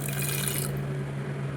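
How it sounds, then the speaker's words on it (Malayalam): Water is poured into a pressure cooker while cooking potatoes for aloo paratha, giving a short splashing rush that stops. A steady low hum continues under it. "കുറച്ച് വെള്ളം ചേർത്തിട്ട് കുക്കറിലേക്ക് ഇട്ടിട്ട് നമുക്ക് കുറച്ച് വെള്ളം ചേർക്കാം"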